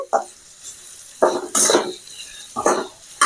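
Ivy gourd pieces fry in a pan for a village-style dondakaya dish, a spatula scraping and stirring in several distinct bursts over a soft, steady sizzle.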